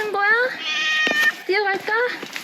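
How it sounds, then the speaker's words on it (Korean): A cat meows along a hillside trail near Meteora, Greece: several close, drawn-out meows come in quick succession, clear over a little background noise. "고양이다."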